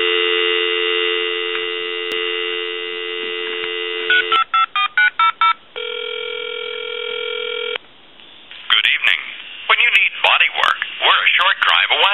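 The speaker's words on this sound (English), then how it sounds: "we'll use a tone dialer" A tone dialer sends a quick series of touch-tone beeps down a line on an old Kellogg wooden wall crank telephone after a steady dial tone, followed by a ringback tone and a clear recorded voice answering.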